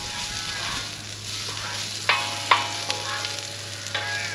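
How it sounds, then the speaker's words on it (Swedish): Leftover grilled potatoes and pork fillet sizzle steadily on a griddle heated by a gas stove, with a few sharp metallic scrapes and clicks from stirring over a low hum. "Och tänkte jag drar på det lite på stekhällen här."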